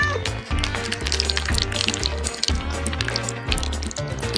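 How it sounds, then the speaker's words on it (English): Running shower water rinsing a cat, a continuous splashing, gurgling stream at moderate loudness that persists throughout, mixed with soft music and no clear talk. "Now it's time for a shower and rinse."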